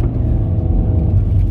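Steady low rumble of a car driving, heard from inside the cabin, a continuous close engine and road drone with no talking.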